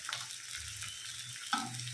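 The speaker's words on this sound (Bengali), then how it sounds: "সিমগুলো প্রায় ভাজা হয়ে" Green beans fry in a pan with a steady, even sizzle and hiss that runs throughout, with a faint utensil touch near the end and no talking.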